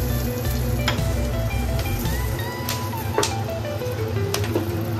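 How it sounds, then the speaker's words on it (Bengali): Whole spices (dried chilli, bay leaf, garam masala, cumin) crackle and sizzle in leftover fish-frying oil, a loud continuous close fry with occasional sharp pops and stirring, no talk. "মাছ ভাজা তেলেই ফোড়ন দিয়ে দেবো।"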